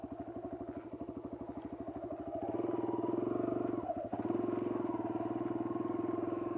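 A Kawasaki KLX140 dirt bike with reworked suspension runs its small single-cylinder engine, a steady low thumping putter that rises in pitch and loudness as it revs, dips briefly, then settles into a sustained drone.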